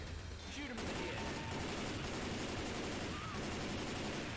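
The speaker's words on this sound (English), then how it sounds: "Shoot him in the head" Gunfire in Left 4 Dead 2 rattles in sustained bursts against a dense, noisy game soundscape, with rapid shots blending into a continuous clatter.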